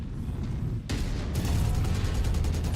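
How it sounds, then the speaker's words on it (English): A loud explosion erupts in the mech combat video game MechWarrior 5, a sudden broadband boom followed by a sustained roaring, crackling rumble with rapid repeated bursts. "Oh, that was an explosion."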